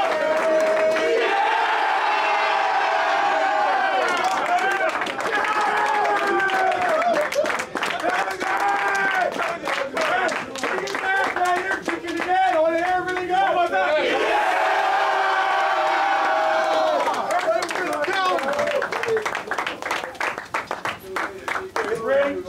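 Basketball crowd in Humphrey Coliseum roaring and cheering after a Mississippi State win, loud sustained cheers with claps and whoops that swell, dip and swell again, with voices shouting over the din.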